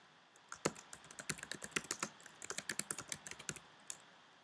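Rapid clicking of a computer keyboard as a name is typed into a search-saving field, a burst of crisp close keystrokes in quick uneven rhythm, heard alone without talk.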